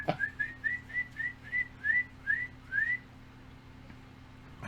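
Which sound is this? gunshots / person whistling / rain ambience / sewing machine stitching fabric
person whistling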